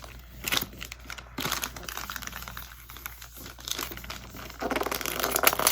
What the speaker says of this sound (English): We get to unwrap a book.